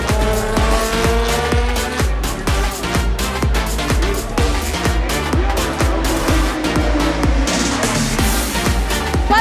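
IndyCar race cars at the Grand Prix of Long Beach roar past in rapid succession, loud whining engines rising and falling as they shift gears on the street circuit, heard from the bleachers.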